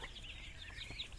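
A mother hen calling her ducklings on a farm, soft clucking calls over a faint, steady background of peeping young birds.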